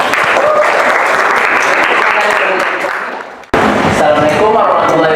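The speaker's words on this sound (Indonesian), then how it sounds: "kita kasih aplaus untuk kelompok 1" Classroom applause for a student group rings out loud and dense, with a sharp cutoff and quick resumption partway through.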